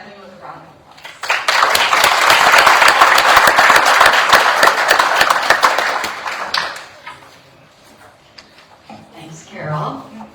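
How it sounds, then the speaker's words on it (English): A meeting audience at an ovarian cancer research organization's annual gathering in Minnesota breaks into loud, sustained applause for a few seconds, then fades, with voices and stage sounds following. "Let's welcome Kathleen with a round of applause."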